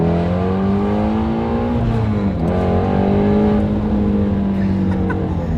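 A loud, close Ford Mustang Shelby GT350R engine drones and climbs in pitch as the car accelerates, dips briefly at a gear change, then keeps pulling hard.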